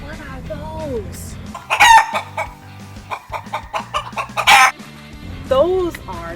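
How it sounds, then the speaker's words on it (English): Chickens cluck in quick bursts while a rooster crows loudly nearby, with a voice speaking briefly at the start over a steady low hum. "Those are chickens."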